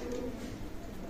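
A pair of Oman-bloodline teddy pigeons cooing in a loft, low soft murmuring coos that run continuously and close by, brief and without any talk.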